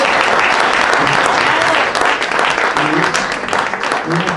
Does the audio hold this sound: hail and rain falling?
no